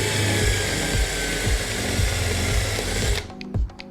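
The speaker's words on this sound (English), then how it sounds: "There's a rivet here that you'll need to drill out" A power drill bores out a rivet on a metal crutch, whirring in short repeated bursts with pulsing load changes, then stopping abruptly near the end.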